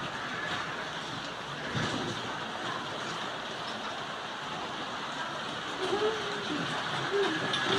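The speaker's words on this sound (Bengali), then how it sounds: "দেখেন কি পরিমাণ বাতাস" Strong wind blows outdoors under dark rain clouds, a steady broadband roar buffeting close to the microphone, with a brief stronger gust early on and rougher bursts near the end.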